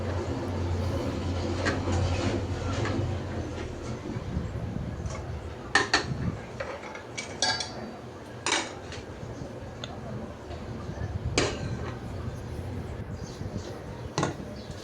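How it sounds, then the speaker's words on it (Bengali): Washed plates and bowls being stacked and put away in a home kitchen, with scattered ceramic clinks and clatters over a steady low background hum. "এখানে রাতের ধোয়া প্লেট বাটিগুলো এখন গুছিয়ে নিব"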